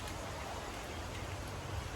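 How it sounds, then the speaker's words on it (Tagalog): Steady rain falls outside after an all-night downpour, a constant soft hiss with faint low patter and no distinct drops standing out. "Magdamag pala yung ulan."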